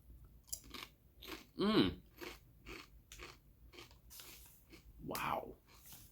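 Jalapeno-flavored potato chips are bitten and chewed up close, with a sharp crunch followed by repeated crisp crackling chews, and a hum of appreciation partway through.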